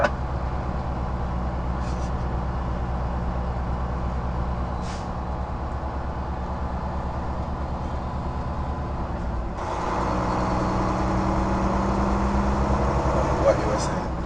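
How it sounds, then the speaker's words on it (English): Engine brake of an automatic truck descending a downhill grade, heard from inside the cab as a steady low drone that grows louder and rougher partway through, with no talk over it. "I'm gonna take off one of the bank off the engine brake."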